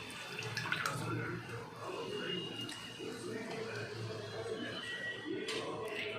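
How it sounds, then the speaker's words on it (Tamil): Water trickles and drips softly in a wet, splashing patter as grated potatoes are squeezed over a bowl, quiet and close, with no talking. "தண்ணி இல்லாமல் எல்லா உருளைக்கிழங்கையும் நல்லா நம்ம புழிஞ்சிக்கலாம்."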